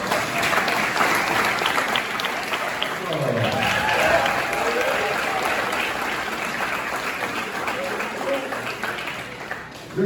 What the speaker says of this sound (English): And before we give one more round of applause